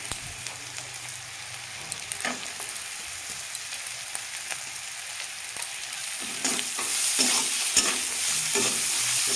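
Onion, turmeric and kakrol seeds fry in oil in a kadai wok, a soft sizzle broken by repeated scraping stirs of a spoon, growing louder and busier toward the end, with no talking.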